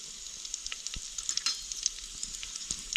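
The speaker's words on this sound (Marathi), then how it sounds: "तेल गरम झालं मोहरी टाकू जिरं टाकू" Mustard seeds and cumin sizzle steadily in hot oil for a Sankranti mixed-vegetable bhaji, a bright frying hiss scattered with sharp popping crackles and a few louder spatters, close and without talk.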